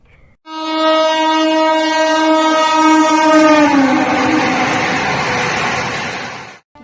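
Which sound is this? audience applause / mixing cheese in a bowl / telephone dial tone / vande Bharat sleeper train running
vande Bharat sleeper train running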